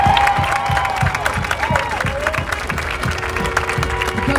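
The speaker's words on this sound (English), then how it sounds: "So I want everybody to give yourselves a round of applause." Crowd applause and cheering at a Minneapolis street rally after the Derek Chauvin verdict, with steady, rhythmic clapping from many people and shouts and voices mixed in throughout.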